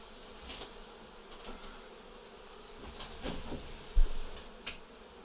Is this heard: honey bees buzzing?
yes